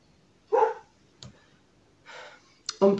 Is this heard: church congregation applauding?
no